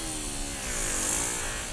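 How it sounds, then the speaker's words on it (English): A 240-grit power sander hums steadily and loudly at close range, sanding the inside of a tire to clean off the glazed ring. "So we'll get the sander going."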